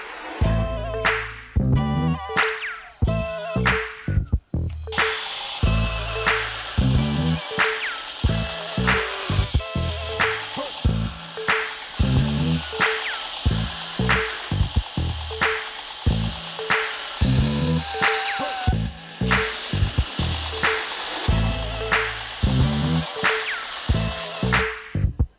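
Belt grinder fitted with a fresh 36 grit belt grinding the bevels of an 80CRV2 carbon steel knife, with repeated rasping passes of steel against the abrasive, separated by short pauses, loud and close.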